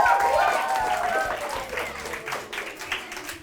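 A burst of applause from primary school pupils in a classroom drama activity, loud and close, opening with a voice calling out, then fading into softer, scattered clapping.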